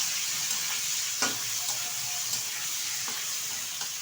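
Hilsa fish dropped into a frying pan with ridge gourd, giving a continuous hissing sizzle punctuated by several sharp clatters of stirring utensils, close and moderately loud without speech.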